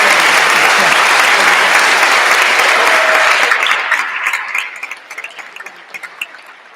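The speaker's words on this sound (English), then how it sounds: "Let's again give them a round of applause." A large audience bursts into a dense, loud round of applause at a Supreme Court gathering, the sustained clapping gradually thinning into scattered individual claps as it dies away.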